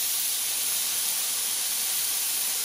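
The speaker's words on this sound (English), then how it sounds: "get these on the grill" Chicken yakitori skewers sizzling on a grill, a steady loud hiss that runs unbroken and close for the whole stretch.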